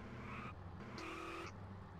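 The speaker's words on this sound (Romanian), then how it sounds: "Trebuie să-mi pornesc motorul să-l las așa pornit" A car engine idles in GTA San Andreas multiplayer, a steady droning hum with tonal layers that shift every half second or so, continuous and moderately loud with no talk.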